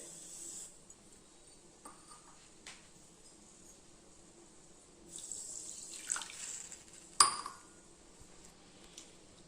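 Water is poured onto sugar in a kitchen to make syrup for motichoor laddu, a faint, quiet trickle and splash with a couple of small clinks, including a louder knock near the end, and no talking.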